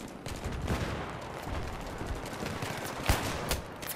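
Gunfire in the Battlefield 3 video game on the Seine Crossing map, a steady rattle of automatic shots with a few sharper, louder cracks standing out, heard alone without talk.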